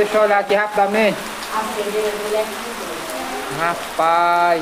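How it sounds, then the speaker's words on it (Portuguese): Heavy rain pours steadily on a rainy afternoon, a dense, continuous hiss close by that runs beneath someone talking throughout. "Que coisa boa, olha só, pessoal. E é grossa mesmo. Chuva grossa."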